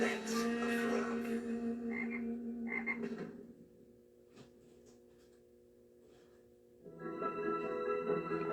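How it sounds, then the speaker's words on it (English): A frog croaks loudly in a rapid, throaty run, drops to quiet for a few seconds, then bursts into croaking again, with no one speaking. "Now that's a frog."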